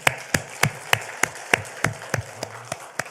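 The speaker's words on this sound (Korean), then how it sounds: "다 같이 박수하시겠습니다" A church congregation claps together in unison at the close of a Christmas Day sermon, about ten sharp, evenly spaced claps in a steady rhythm, clear and fairly close, with no talking.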